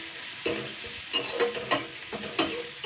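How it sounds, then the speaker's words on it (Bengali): Spices being stirred in a hot frying pan with oil, coriander powder among them, for a drumstick-leaf dish: scraping spoon strokes over a steady close sizzle, several distinct stirs spaced about half a second apart. "এবার একটুখানি নেড়ে চেড়ে নেবো 2 মিনিট মতন।"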